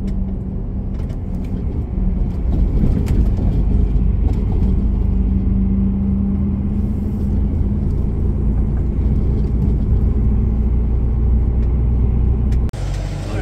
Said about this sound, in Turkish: Trafik bayağı bir yoğun.